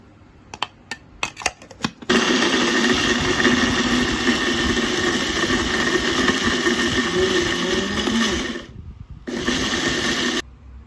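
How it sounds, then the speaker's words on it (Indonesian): A few clicks, then a blender motor whirs loudly and steadily for several seconds grinding spice paste with a little water, stops briefly, and starts again for another burst. "Kita tambahkan sedikit air biar gampang blendernya melumat bumbu ini."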